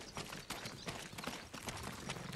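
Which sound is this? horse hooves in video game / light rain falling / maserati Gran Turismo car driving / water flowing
horse hooves in video game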